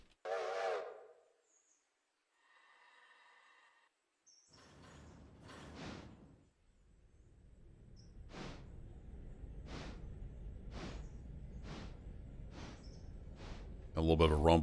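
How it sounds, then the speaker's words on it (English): Steam train in the Railroader video game: hissing steam bursts and a whistle-like tone are followed by a low rumble as the locomotive moves off, with evenly spaced chuffs building steadily, fairly faint overall. "A little bit of a rumble there as the train moves."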